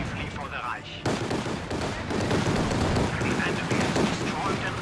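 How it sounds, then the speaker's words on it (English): A strafing run in the World War II strategy game Company of Heroes 2 brings dense rattling gunfire and battle noise, sustained and fairly loud, with the game's sound mix busy throughout. "Brings in a strafing run."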